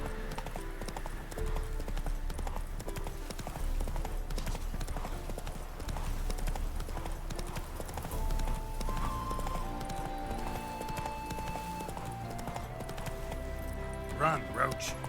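The horse Roach gallops in The Witcher 3, a steady rhythmic clip-clop of hooves under game music, with someone talking over it and a brief whinny near the end.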